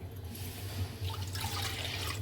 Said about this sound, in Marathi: त्यामध्ये आता प्रथम आपण 2 भांडे पाणी घालून घेणार आहोत।